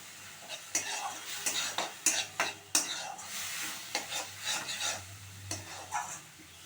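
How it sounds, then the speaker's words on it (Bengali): Onion paste and spices frying in a pan for a jackfruit curry, with repeated scraping strokes of a spatula over a steady low sizzle, close and moderately loud. "পেঁয়াজ বাটাটা আমি দিয়ে আরও ভালো করে কষিয়ে নিচ্ছি"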